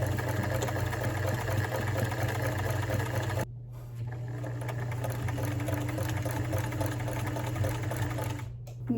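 A sewing machine stitches test fabric in a fast, steady mechanical whir with a rhythmic hum, pausing briefly before running on at a close, even level.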